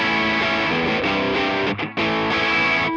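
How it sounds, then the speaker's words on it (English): Electric guitar through a ToneX amp profile with the gain turned down, playing a run of sustained, lightly overdriven chords and notes, loud and close with a brief dip near the middle and no talk. "Again, you turn the gain down."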